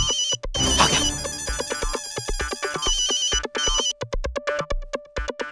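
An electronic phone ringtone plays alone at a steady level, a bright repeating melodic chime looping for several seconds with short pulsing notes, no talk over it.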